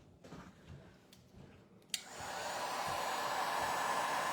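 A hair dryer drying paint on a stencil switches on about halfway through with a click, then blows as a steady, close, loud whoosh until the end.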